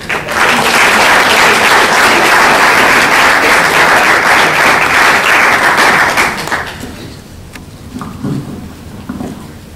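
A student symposium audience applauds to welcome a speaker, loud sustained clapping from a full room that fades out after about six seconds, leaving quiet room noise and a few scattered sounds.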